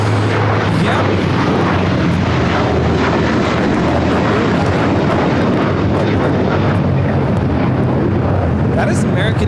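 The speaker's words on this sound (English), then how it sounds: "That is American Airlines 513 taking off to Philadelphia on the A321." An American Airlines A321 takes off at a large airport, its engines a loud, continuous broadband roar with deep rumble that fills the whole stretch without letup.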